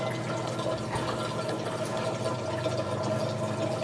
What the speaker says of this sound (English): when I latch on and I press down, you can hear it starting to flow